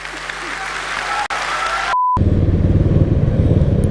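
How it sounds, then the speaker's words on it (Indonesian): A burst of crowd applause lasts about two seconds, then a short electronic beep cuts it off and a motorcycle engine rumbles steadily underneath for the rest of the ride. "Silahkan berikan tepuk tangan."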